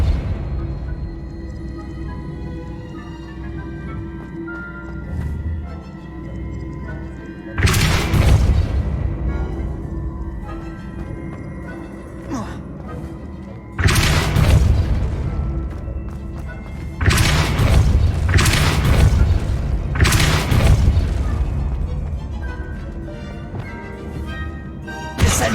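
Compulso spells in Hogwarts Legacy strike with several loud booming impacts, heavy thuds spaced a few seconds apart over a steady rumble of game noise and music.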